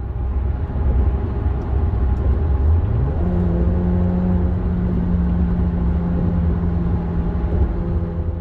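An Alfa Romeo Giulia fitted with a throttle controller surges forward after being switched into sport mode, its engine drone rising steadily in pitch and holding a loud, sustained whir with no talking.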